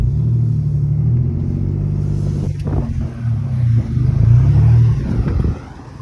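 A Dodge Dakota pickup driving off-road in two-wheel drive gives a loud, close, deep engine rumble that holds steady with slight surges as it moves.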